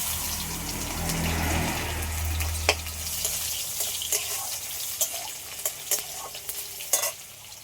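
Crushed garlic hits hot oil with panch phoron in a pan, giving a steady sizzle that thins out, then scattered stirring scrapes and clinks.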